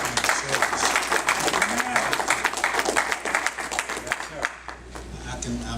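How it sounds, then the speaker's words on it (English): Applause from a church congregation during a service, steady dense clapping filling the room at close range with voices mixed in, thinning slightly toward the end. "another round of applause for allowing this kind of service"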